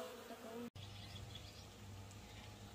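A honeybee swarm hums up close in a village apiary, a steady low buzz with individual bees droning past, briefly broken by a momentary dropout, and a voice faintly present.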